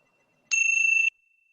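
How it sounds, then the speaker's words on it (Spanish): A single clear bell tone rings once to mark that time is up, a bright sustained ding lasting about half a second against near silence. "Ya nos tocaron la campana."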